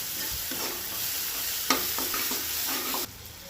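Kashmiri red chili powder and homemade spice mix are stirred in a hot pan: a steady sizzle with a series of scraping, knocking stirs of a spoon against the pan, then the sizzle quiets.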